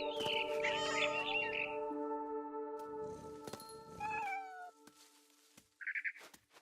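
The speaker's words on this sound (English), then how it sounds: "I was a cat." A cat meows in the game What Remains of Edith Finch, several clear cries rising over a sustained tonal music bed, with brief bird chirps and a short high squeal near the end.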